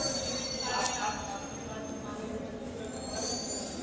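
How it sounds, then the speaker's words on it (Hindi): A Delhi metro train pulls away from the platform, a steady close rumble with faint wheel squeal and brief clinks, while people talk nearby. "हमारे जस्ट हमारे सामने से मेट्रो गई है"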